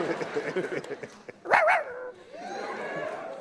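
A single loud dog bark cuts through a busy background of crowd chatter and noise, followed by lingering murmurs.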